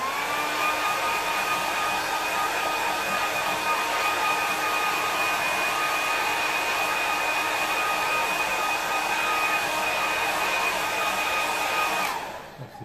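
A hair dryer blowing steadily on a watercolour painting, a loud, even whine and rush of air that holds for about twelve seconds before cutting off.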